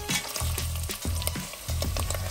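Meat sautéing in a pan for Persian gheymeh stew, a close, steady sizzle broken by several stirring scrapes at a loose rhythm, with no talking.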